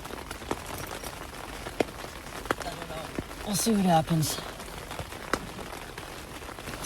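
Rain patters on a camping tent in scattered, distinct drops, close and moderately soft, continuing steadily while a person speaks briefly over it.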